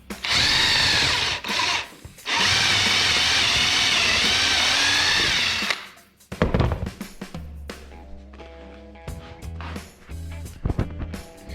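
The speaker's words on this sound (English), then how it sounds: "start screwing" Power drill driving screws into wood for a stitched rocking bowl, with two long loud continuous whirring runs broken by a short pause, then knocks, thuds and a softer lower motor hum near the end.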